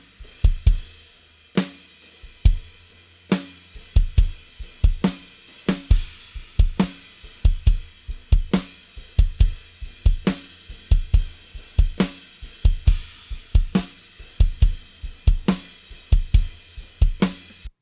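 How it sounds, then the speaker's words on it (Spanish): Drum kit played in a steady groove at a church rehearsal, punchy kick and snare hits with cymbal crashes, close-miked and loud, alone without voices. "Aquí tenemos el sonido de la batería."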